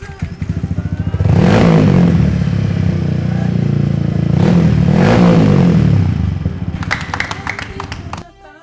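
A customized Yamaha XSR155 tracker-style motorcycle revs hard twice, each loud rising roar holding for a few seconds before easing back, then settles to a rough idle with a few sharp clattery ticks near the end.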